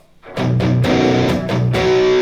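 Electric guitar through a Zoom G1X Four distortion pedal with every setting maxed out, playing a loud, saturated chord sequence with several sharp re-strikes that ring on thickly for about two seconds.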